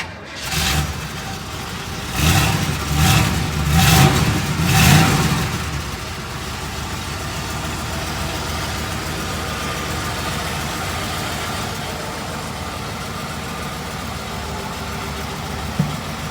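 A 1967 Chevrolet Camaro's 327 V8 cranks and fires with a few revs, then settles into a steady low idle that rumbles on without talk.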